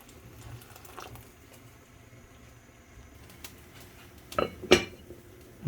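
A metal lid clinks onto a cooking pot of lentils and rice, two sharp clanks near the end after quiet kitchen sounds and faint scraping.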